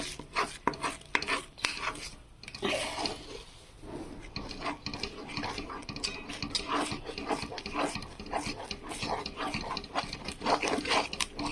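Egg bhurji with green garlic stirred in a pan over a full flame, heard as a continuous scraping and rasping of a spatula against the pan, with rapid, uneven strokes and no talking.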